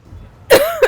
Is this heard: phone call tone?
no